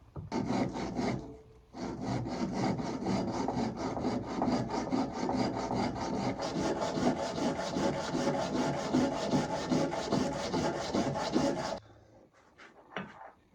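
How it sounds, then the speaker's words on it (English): An oak flag bracket is rubbed back and forth for lapping flat, a steady rhythmic abrasive scraping of wood that runs for about ten seconds before stopping, with a few faint knocks after. "I'm going to have to spend some time lapping that a little bit flatter because it didn't sit so well on the bracket"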